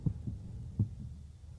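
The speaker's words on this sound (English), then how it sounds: "the sound of a heartbeat pumping" A slow heartbeat pumps in low, muffled thuds, a close double beat followed by a pause and another single heavy thump.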